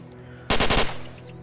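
A Scorpion SMG fires in STALKER: Call of Pripyat, one short loud burst of about five rapid shots with a fading echo, following a quiet background hum.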